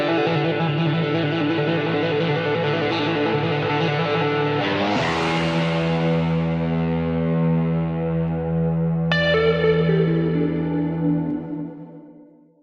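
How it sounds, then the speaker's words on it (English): Sustained synth chords run through the Solaris ethereal reverb plugin by Szabo, with long smeared tails and shimmering washes that shift partway through, then the wet reverb fades out at the end. "This is an amazing ethereal reverb effect plugin available only for Windows."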